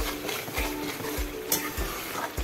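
Rajma masala is stirred and fried in a pan over high heat, giving a steady sizzle with a scrape of the spoon every half second or so, close and continuous with no talk.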